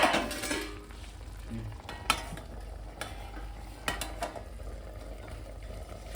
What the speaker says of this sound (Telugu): కర్రీ ఎన్నిసార్లు తిప్పితే అంత మంచిది